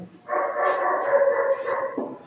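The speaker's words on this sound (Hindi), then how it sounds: "ये डॉगी किसका भौंकने लग गया पीछे से" A dog barks in a drawn-out, howling bark in the background, a single sustained outburst of a couple of seconds, moderately loud with no talk over it.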